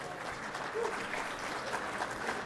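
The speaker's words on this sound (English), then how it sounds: "Round of applause if you did." A keynote audience at a cinema technology summit gives a steady round of applause, dense and continuous clapping from a large crowd at moderate distance, with no break throughout.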